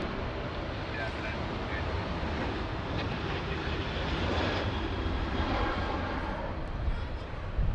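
A Qantas airliner takes off from runway 16 left at Sydney Airport, its engines a steady, broad roar that swells slightly midway and holds throughout.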